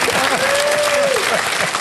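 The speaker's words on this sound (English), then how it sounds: "Now, that's more like what I call applause." Sustained applause from an audience at a Christopher Hitchens Q&A, steady and fairly loud throughout, with a brief whistle-like tone riding over the clapping.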